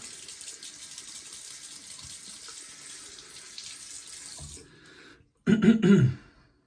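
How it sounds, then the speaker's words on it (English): Water runs from a tap into a shaving bowl or sink as it is turned hotter, a steady hiss that fades and cuts off, then a brief loud gush with a throat clearing or cough. "I'm actually going a little bit hotter of water there."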